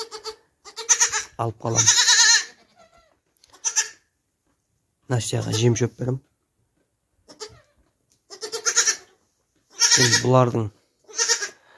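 Goats bleat on a farm during kidding season, with a doe and her newborn kid nearby. Several loud, wavering bleats come in separate bursts, and a person talks in between them.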